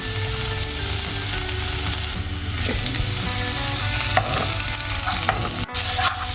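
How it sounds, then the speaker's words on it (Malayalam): Ginger frying in hot oil in a pan for a Kannur-style dish, a steady loud sizzle that runs the whole time with occasional stirring scrapes and a brief clatter near the end. "എണ്ണ നന്നായി ചൂടായിട്ടുണ്ടെങ്കിൽ നമുക്ക് ഇതിലോട്ടേക്ക് ഇഞ്ചിയും ചേർത്ത് കൊടുക്കാം"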